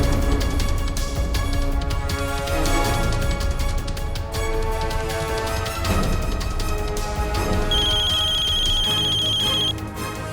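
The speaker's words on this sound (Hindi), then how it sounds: "फोन बज रहा है आपका।" A phone rings in a TV drama scene, with a melodic electronic ringtone playing over dense background music, and a steady high beeping tone briefly sounding toward the end.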